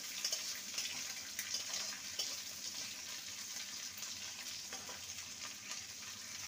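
Chopped onion frying lightly in a pan for an okra and egg curry, giving a soft, steady sizzle with faint stirring scrapes throughout.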